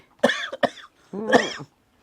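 Several harsh coughs from a person, two quick bursts followed by a longer hacking cough, close and loud, with no other talk.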